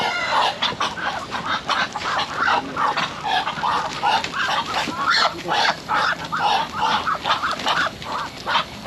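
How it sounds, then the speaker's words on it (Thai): Ducks in a backyard in Alabama give a busy run of quacking calls, many birds overlapping in quick, uneven bursts throughout, fairly close and steady in loudness. "ตัวน่ะเป็ดนะ"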